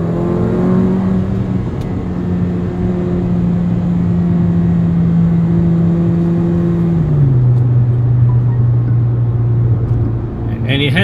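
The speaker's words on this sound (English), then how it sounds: "there is that amusing burble from the exhaust that goes pop, pop, pop" A loud, close Mercedes-AMG GLA 45 engine drones with a steady rumble, its pitch sliding slowly down as it eases off, with a few exhaust crackles near the end.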